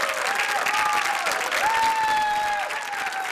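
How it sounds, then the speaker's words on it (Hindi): A Hindi TV reality-show studio audience claps loudly and steadily for about three seconds, the dense applause running continuously with a sustained musical tone sliding between pitches over it. "जोरदार तालियों से एक बार फिर इनका हौसला बढ़ाते हैं।"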